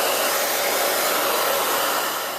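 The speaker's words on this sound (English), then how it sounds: "I'm going to use the dryer again to speed up the drying process" A hair dryer blows steadily to speed-dry watercolor paint and masking fluid on paper, a loud continuous close-up whoosh that fades slightly at the end, with no talking.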